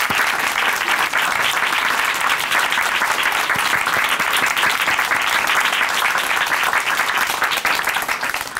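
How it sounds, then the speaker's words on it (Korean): Studio audience at a Korean Christian testimony program applauds loudly and steadily, a dense wash of many hands clapping at once without a break, with no voices rising above it. "우리의 가정도 함께 박수로 응원해드리겠습니다."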